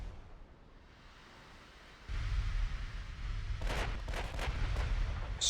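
Battleship guns fire high-explosive shells in the naval strategy game Ultimate Admiral Dreadnoughts: after a quiet rumble, a heavy low boom starts and sustains, followed by a rapid series of several sharp, loud cannon blasts.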